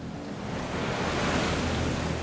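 Storm-driven ocean waves roar on open water during a sailing trip, a dense, rumbling wash that swells slightly midway and runs continuously with no voices.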